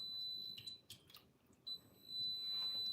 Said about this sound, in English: it's telling me I had set my timer for 30 minutes